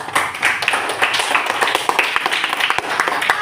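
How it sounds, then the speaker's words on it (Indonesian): A group of children clap together in a dense, lively burst of applause that continues throughout, with a few voices mixed in. "Kasih dulu nak aplaus atau tepuk tangan."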